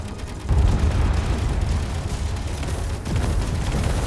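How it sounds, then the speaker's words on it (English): In the Space Engineers game, missiles and Gatling turret fire pound a ship with heavy rumbling explosions and rapid booming impacts, loud and dense, with a fresh surge of blasts midway. "missiles are definitely ripping into it now"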